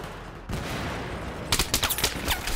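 Gunfire in Battlefield 3 multiplayer, first a steady noisy roar, then a quick burst of about seven or eight sharp, close shots in the final second.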